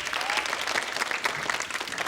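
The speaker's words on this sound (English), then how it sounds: "I want you to cheer and scream and applaud for the ones that you think are Canadian national parks" A game show studio audience applauds and cheers in a dense, continuous wash of clapping, steady and moderately loud throughout with no speech on top.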